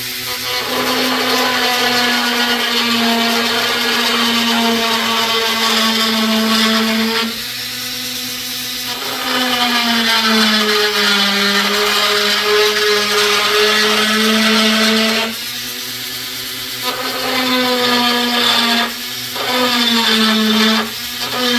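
A Dremel rotary tool grinds fiberglass on a Yamaha SUV personal watercraft, giving a loud, steady high-pitched whine that sags under load and recovers in several long passes, with no talk.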